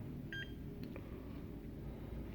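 A Panasonic cordless landline phone gives a brief pair of quiet electronic menu beeps near the start, then a faint tick, over a low, steady background hum.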